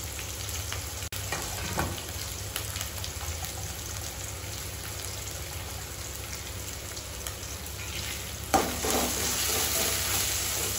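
Gongura (sorrel leaf) chicken curry frying and being stirred in a pan gives a steady, close sizzle with soft scraping stir sounds throughout and a brief louder clatter near the end, with no talking.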